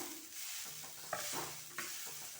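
Grated coconut fries and is stirred in a pan for Bihu pitha filling, with a soft continuous sizzle under steady scraping strokes and two brief sharper knocks of the spoon, quiet and close with no voices.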